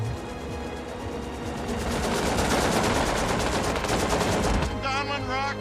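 Dense rifle fire from a shootout with a sniper in a Vietnam War film rattles in rapid, continuous bursts, loud and close, before a voice cuts in at the end.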